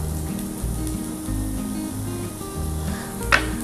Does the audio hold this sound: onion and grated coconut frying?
yes